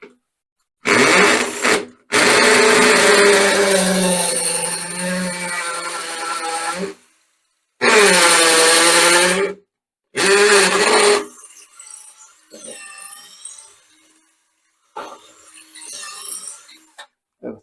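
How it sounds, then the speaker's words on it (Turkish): A power drill whirs loudly in several bursts with short pauses while drilling holes to relocate a toilet bidet tap, then quieter drilling comes in short spurts with a voice faintly in between. "Evet şimdi delme işlemine başlıyoruz."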